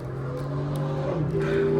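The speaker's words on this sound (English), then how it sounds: "that's a loud car that just passed by" A loud car passes nearby, its engine tone droning and shifting slightly in pitch as it goes by, steady and prominent with no talking over it.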